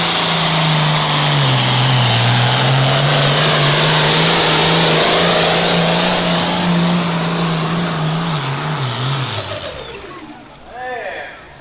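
A big diesel tractor engine roars loudly through a truck pull at a county fair, holding a steady drone that wavers slightly before winding down near the end, with a brief revving burst afterward.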